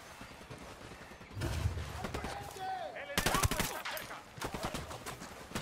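Gunfire in Ghost Recon Wildlands during a main mission at a military fort: bursts of automatic shots and sharp cracks at moderate loudness over a busy background with some hoof-like clatter.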